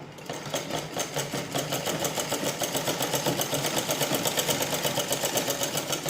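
A sewing machine runs steadily, stitching a cancan petticoat, its needle clattering in a fast even rhythm that builds up and holds, close and fairly loud with no voices.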